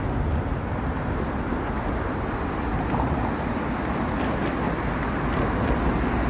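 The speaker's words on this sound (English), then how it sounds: "I can hear a subway passing underneath the viaduct here." A subway train rumbling along beneath a viaduct on a warm Saturday evening in Toronto's east end, a loud, steady low roar that lasts the whole stretch, mixed with street traffic and no talking.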